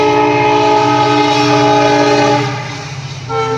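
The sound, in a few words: train passing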